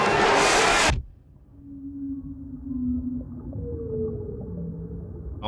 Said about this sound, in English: whale noises. It just kind of snaps me out of where I'm at. They're like just little squeals, right?